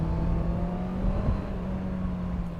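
A Honda CBR650R sport motorcycle's four-cylinder engine holds a steady hum around 5000 rpm while riding, with a brief rise in pitch midway; the tone stays loud, close and continuous.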